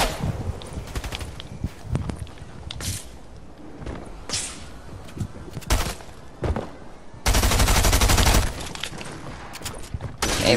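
Gunfire in the video game Fortnite: scattered bursts of rapid shots and single cracks among footsteps and shuffling, with a long, loud sustained blast near the end.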